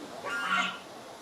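A goose honks once at a garden pond in southern China, a single brief nasal call that swells and fades, heard at moderate distance with no talk.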